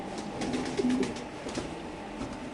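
Pigeons cooing at a pigeon farm, a few soft rolling coos close by over low background rustle.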